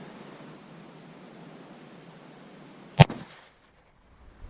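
A single sharp gunshot from a .22LR round fired through a 12-gauge chamber reducer cracks loudly over a steady outdoor hiss, then falls to near silence.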